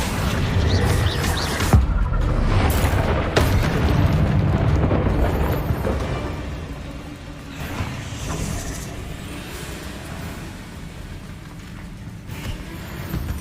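Spell blasts and fiery explosions in the Hogwarts Legacy video game, with booming impacts and rumbling fire over a continuous dense roar during a fight with spiders, loud and without talking.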